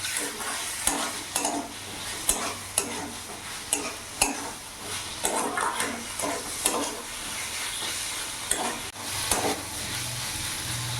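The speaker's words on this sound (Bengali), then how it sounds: "ভালো করে মিশিয়ে নেব।" Drumstick flowers curry (sajne phool chochchori) being stirred in a pan over a medium gas flame, with repeated scraping strokes of a spatula over a steady close sizzle and occasional clinks of metal on the pan.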